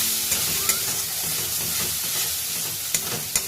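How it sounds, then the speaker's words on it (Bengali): Spice paste sautéing in a pan with a splash of water, a steady close sizzle broken by a few sharp utensil clicks and scrapes, no voices. "একটু জল দিয়ে আমি মশলাটা আরো একটু ভালো করে কষিয়ে নিই।"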